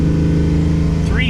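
A Pontiac Firebird with a swapped engine and an oil pressure fault idles with a steady low hum as throttle is applied, the pitch beginning to climb in a short, close burst.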